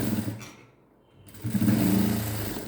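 A sewing machine runs while stitching narrow piping with a small border onto a blouse. The motor hums steadily, dips into a brief near-silent pause, then resumes louder and close.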